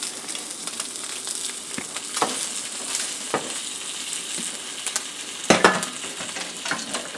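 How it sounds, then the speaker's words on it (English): Food sizzles and crackles steadily in butter in a hot pan, with occasional scraping clicks of a utensil stirring it close by. "heard that sizzle?"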